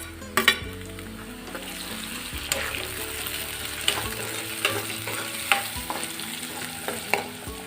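Onion, chopped green chillies and tomatoes fry in hot oil with a steady sizzle, and a spoon clatters and scrapes through them in several sharp stirring knocks. No one speaks.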